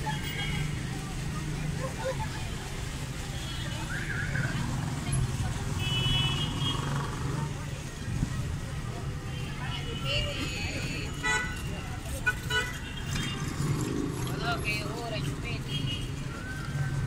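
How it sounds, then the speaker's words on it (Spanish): Steady road traffic on Avenida Balta beside the Plaza de Armas in Chiclayo, Peru, with car engines rumbling and occasional horn toots throughout, people talking under the continuous street noise. "a esta hora hay bastante tráfico"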